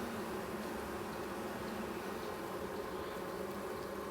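Honey bees buzzing around an open hive during a brood inspection, a steady dense hum that holds evenly throughout at moderate level with no pauses.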